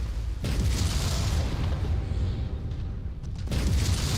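Inferno missiles slam into a mech in MechWarrior 5, a dense, continuous roar of booming impacts and explosions that holds loud and steady for about four seconds, with a brief sharp onset near the start.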